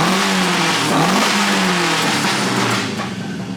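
Carbureted Toyota 4AGE engine, its carb jets freshly cleaned, revving loud and close in a steady rising-and-falling drone that eases off near the end, with no talk over it.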